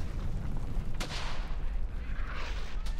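A cannon fires in the WWII shooter Brothers in Arms: Hell's Highway, with two sharp booming blasts, one near the middle and one at the end, over constant loud battlefield rumble.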